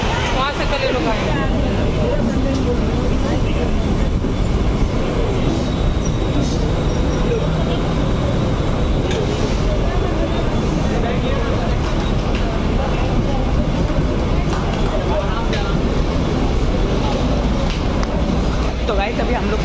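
A Mumbai local train at night near Dadar station gives off a loud, steady rumble and roar with no break, and crowd chatter mixes into the noise.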